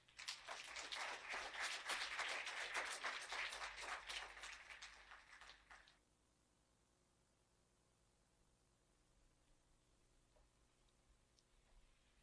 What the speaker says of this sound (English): Please may I ask us to put a warm round of applause for Madame Shamila Subramani.